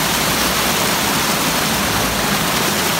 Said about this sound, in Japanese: さあ、ここはどこですか？ 滝。